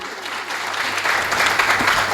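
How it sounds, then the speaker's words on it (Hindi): At a kavi sammelan poetry gathering in Bazpur, an audience claps in honor of someone, a dense, steady round of applause that swells slightly toward the end. "मैं चाहती हूँ उनके सम्मान में आप सभी तालियां बजा सकते हैं।"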